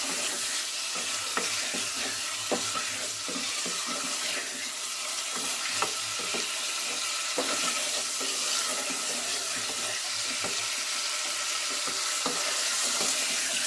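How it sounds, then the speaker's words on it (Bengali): Chicken pieces frying in hot oil in a pan, stirred steadily with a spatula, giving a continuous close sizzle with frequent scraping knocks and clatters throughout, no talking. "এভাবে নাড়তে নাড়তে চিকেনটা হালকা ভাজা ভাজাও হয়ে যাবে"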